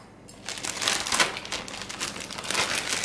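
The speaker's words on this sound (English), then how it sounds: "the easiest way is using a plastic bag, because it just makes for easy cleanup" A plastic bag holding steak and marinade crinkles and rustles as it is handled, with bursts of crumpling that swell and fade over a few seconds, close and fairly loud with no talking.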